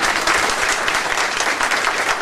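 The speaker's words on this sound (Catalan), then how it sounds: "Un aplaudiment, sisplau, per aquesta nena." Audience at a magic comedy show applauding, a dense, loud, continuous burst of clapping from a crowd that holds steady throughout.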